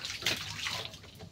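Rainwater pours into a pit that is filled to the brim after a storm, making a close, continuous rushing splash with no talking.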